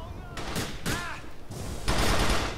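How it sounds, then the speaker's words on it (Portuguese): Rapid pistol shots ring out in a GTA IV: The Lost and Damned firefight, with several sharp, loud bursts clustered close together and a voice briefly heard between them. "Eu tô com aquela pistola invocada."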